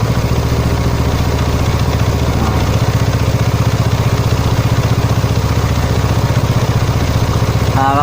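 Yamaha Mio Sporty/Soul scooter engine idling steadily at a raised RPM, a loud, close, continuous mechanical putter with light clatter throughout.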